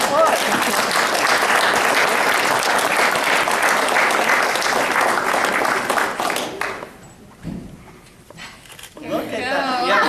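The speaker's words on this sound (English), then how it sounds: "Let's give her a round of applause." Loud, sustained crowd applause at a community rec centre time capsule opening, steady clapping for several seconds that fades out, followed by people talking and laughing nearby.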